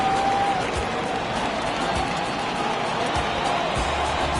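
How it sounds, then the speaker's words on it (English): A virtual basketball arena crowd from an NBA 2K Nets versus Knicks game in Brooklyn keeps up a steady, washy roar of applause and murmur at moderate level throughout. "Please give a big round of applause for your Nets V Knicks team."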